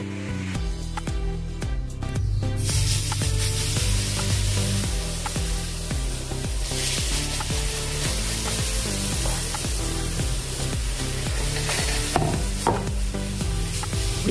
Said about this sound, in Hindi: एक बार और से इसको चम्मच से चला देंगे ऐसे